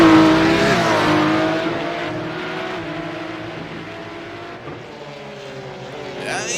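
Porsche Cup race cars at Mount Panorama, a loud, sustained engine roar with rising and falling pitch as the cars accelerate down a straight, fading slightly, with commentary voices over it.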